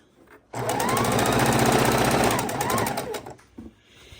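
A sewing machine stitches seams on scrap fabric pieces for a scrappy quilt, a fast, steady mechanical chatter that runs loud and continuous for about three seconds before slowing and stopping, with a brief quiet restart near the end.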